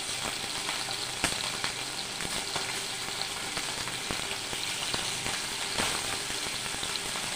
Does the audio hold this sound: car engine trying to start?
no